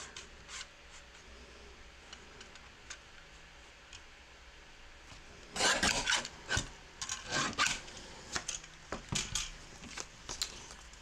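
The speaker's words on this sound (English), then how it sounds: "So I'm going to use my little mini trimmer." A small mini paper trimmer slices cardstock for a fancy fold wiper card. Faint scraping and rasping strokes come in short bursts, close by and quiet, with a few light ticks between them.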